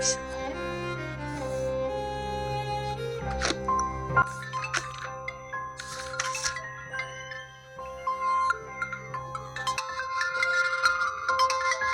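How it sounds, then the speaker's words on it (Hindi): A phone ringtone plays a melodic electronic tune, looping continuously and fairly loud, with a few clicks and rustles mixed in. "अरे यार इसका फोन आ गया सुबह सुबह"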